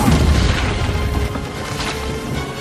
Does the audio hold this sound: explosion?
yes